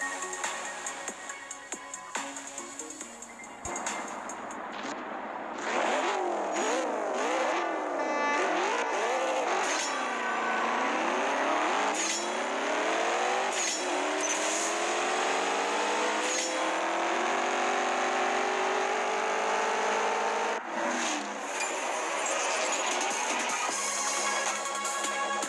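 A car in a racing video game revs hard from a standing start, engine pitch sweeping up and dropping through repeated gear changes, loud and continuous with no talk.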